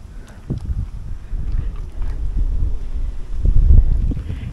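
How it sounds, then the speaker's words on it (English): Cold outback wind buffets a microphone outdoors, producing low, rumbling gusts that swell and fade over several seconds, loudest toward the end. "And it's cold and windy, eh?"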